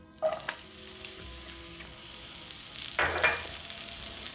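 Finely cut shallot sautés in melted butter over medium heat, a soft steady sizzle with a sharper burst of stirring partway through, close and fairly quiet with no talk.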